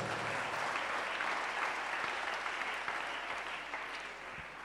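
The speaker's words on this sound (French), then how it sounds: "Clap your hands for Jesus Christ." Steady, continuous clapping from a church congregation applauding Jesus Christ during a sermon, a broad even wash of many hands that fades slightly toward the end.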